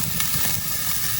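Ribeye steaks sear in a hot pan with a steady, close sizzle and hiss that stays even and unbroken throughout.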